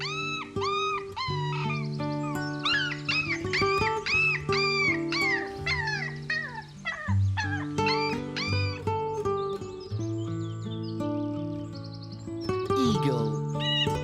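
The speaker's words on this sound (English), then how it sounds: "dog." A dog barks over steady background music, its calls short and spaced out, heard fairly clearly against the tune.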